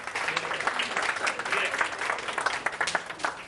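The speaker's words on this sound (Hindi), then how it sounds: "बहुत ज़्यादा तालियां अब्दुल्ला के लिए सब ने।" Studio audience applause for a guest named Abdullah on a morning show, a dense, continuous wash of many hands clapping at moderate distance for several seconds.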